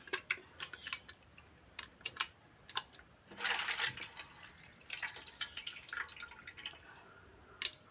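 Water drips and splashes as washed chicken offal is squeezed out by hand, with soft irregular drops and one brief heavier splatter, faint and close.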